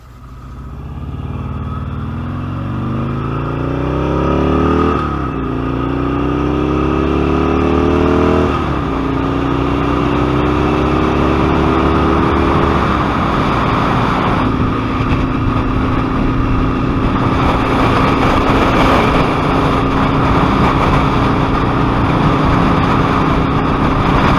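Harley-Davidson XR1200 motorcycle engine under way on a road ride, a loud steady drone that rises in pitch through several climbing sweeps like gear changes, then holds an even cruising tone.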